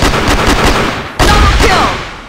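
Repeated gunfire from the money gun in the Crossfire shooter game, a dense burst of loud shots, a brief pause near the middle, then another sustained volley.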